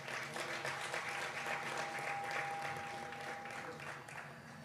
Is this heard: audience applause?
yes